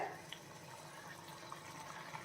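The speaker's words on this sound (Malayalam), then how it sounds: "കണ്ടോ തിളയ്ക്കുന്നു" A homemade chutney mixture boils in a pan on the stove, giving a faint, steady bubbling and simmering hiss with occasional soft pops and no speech.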